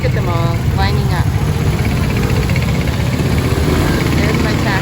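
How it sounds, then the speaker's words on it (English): Motor taxi engines buzz in street traffic as the bikes weave through, a continuous, close, droning rumble under a speaking voice. "Okay, a motor taxi is behind me."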